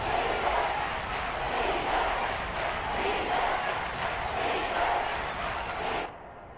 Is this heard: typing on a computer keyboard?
no